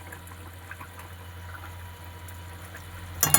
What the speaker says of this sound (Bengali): ফুলকপি ঝোলটা ফুটে গেছে।